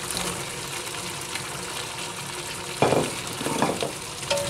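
Carrots sizzle in a pan with a soft, steady frying hiss, broken by a few scraping stirs toward the end.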